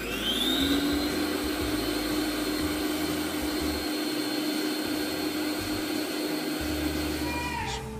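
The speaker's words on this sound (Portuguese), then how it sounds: "E aí a gente coloca aqui na batedeira, ele já geladinho. E a gente bate." Electric stand mixer whipping chilled ready-made chantilly cream for a walnut cake, a steady loud motor whir with a constant high whine that runs throughout and winds down at the very end.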